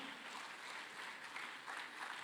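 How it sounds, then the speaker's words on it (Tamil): Audience at a Tamil Thirumurai conference giving applause, a steady, even wash of clapping that sounds distant and fairly faint. "அவர்களுக்கு ஒரு பலத்த கைத்தட்டல் கொடுத்து நன்றிகளையும் தெரிவிக்கலாம்"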